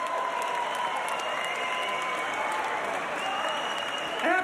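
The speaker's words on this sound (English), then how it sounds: "a round of applause for these two finalists" A fight crowd gives steady, dense applause for two 62 kg finalists in the ring, continuous clapping under a faint tone with a short voice at the very end.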